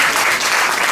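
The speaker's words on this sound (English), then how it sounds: "let's all give him a round of applause." Steady audience applause at a sister-city event linking Gondar, Ethiopia and Montgomery County, Maryland, dense and continuous, with no voices over it.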